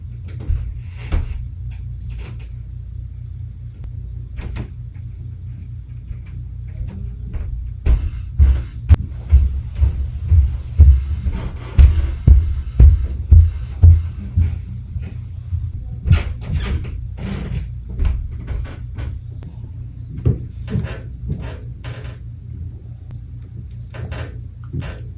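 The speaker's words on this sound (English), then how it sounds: "how many chairs are you dragging across the floor in the middle of the night?" Furniture and luggage dragged across a floor at night: repeated low scraping and thudding bumps in bursts, loudest in the middle, with scattered knocks near and indoors, no talk.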